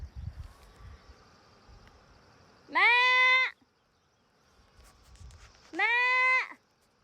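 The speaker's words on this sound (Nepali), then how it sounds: "बाख्रा पनि हुनुपर्ने रहेछ बोका पनि हुनुपर्ने रहेछ" Two loud, drawn-out goat bleats, about three seconds apart, ringing out clearly over a quiet outdoor background.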